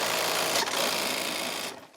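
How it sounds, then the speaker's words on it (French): Industrial sewing machine stitching the sole onto a slipper in a slipper factory, running in a loud, continuous close whir that cuts off near the end. "c'est la machine qui se reprend, oui, parce qu'on met le fond de la pantoufle"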